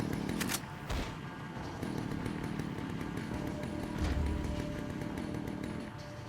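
A chainsaw-wielding enemy's saw buzzes and revs in Resident Evil 4 Wii Edition, a steady motor drone with a few sharp hits layered over it.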